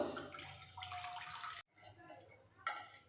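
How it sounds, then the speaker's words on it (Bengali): About one and a half glasses of water pour into a kadai for a raw mango chutney, a steady broad splashing gush for about a second and a half that stops abruptly, followed by faint kitchen clatter and a brief clink. "সবার প্রথমে কড়াইতে একটু জল দিয়ে দিচ্ছি এক দেড় গ্লাস মতো"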